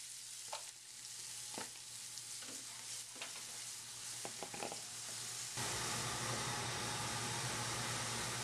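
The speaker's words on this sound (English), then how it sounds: "so we'll just fry that all up" Onion and green chili frying in a pan. A soft sizzle runs under several spatula scrapes and taps, then the frying swells into a much louder, steady hiss for the last few seconds.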